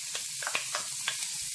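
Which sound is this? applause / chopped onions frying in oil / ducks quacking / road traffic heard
chopped onions frying in oil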